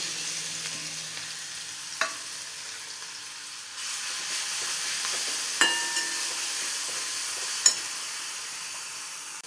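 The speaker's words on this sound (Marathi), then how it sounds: "जिरे चांगलं तडतडलं की मिरची आणि लसूण बारीक करून घेतलेला घालायचं।" Chopped chili and garlic hit hot oil with cumin seeds, giving a soft steady sizzle with a few sharp pops and stirring clinks, fairly quiet and close, no talking.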